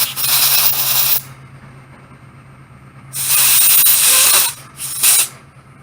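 Compressed air is blown through a carburetor jet from a 1999 Yamaha V-Star 650 in three sharp, loud hissing bursts: a long one, a pause, another long one, then a short final puff.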